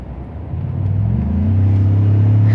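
A 2017 Ford F-150 FX4 Lariat EcoBoost pickup accelerates hard from about 40 to 80 mph, its engine rumble rising steadily in pitch and loudness inside the cab, with no voices.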